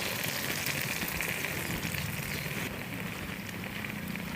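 Banana flower curry ingredients frying in a pan, a dense, continuous crackling sizzle that stays fairly even and close throughout, with no voices.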